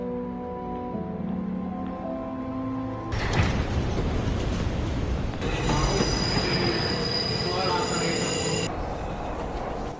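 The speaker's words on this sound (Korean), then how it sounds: "지하철은 정차를 하게 되고" A subway train brakes to a stop, its wheels squealing in loud, sustained high-pitched tones over a heavy rumbling roar that persists through the stop.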